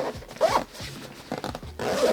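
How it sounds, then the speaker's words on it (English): Backpacks, a DSPTCH Daypack and Utility Ruck, are zipped shut with quick, close raspy zipper pulls in a few short strokes and no talking. "let's just zip these suckers up and get back to the outside features."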